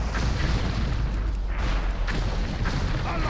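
Airship cannons fire during the Icecrown Citadel gunship battle in World of Warcraft, a dense, continuous rumble of heavy booms and blasts that stays loud throughout.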